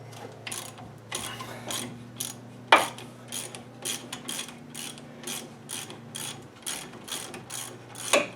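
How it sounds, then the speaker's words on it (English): A hand ratchet wrench loosening the brake caliper slider bolts on a 2004 GMC Sierra 1500 during a brake job, a close series of quick clicking ratchet strokes repeating about once a second over a low steady hum. "Let's get a regular ratchet now instead of the breaker bar."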